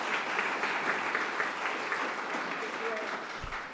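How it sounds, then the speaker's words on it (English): Audience applause at a library author talk, a steady wash of clapping from a room full of people, moderately loud and sustained throughout. "So give them a round of applause."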